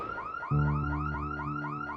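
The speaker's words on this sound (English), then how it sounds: "Arnold was surprised hearing his car alarm go off." A car alarm blares close and loud, with a rapid cycling warble that repeats about every quarter second over a steady low tone. It kicks in half a second in, right after a short stretch of near quiet.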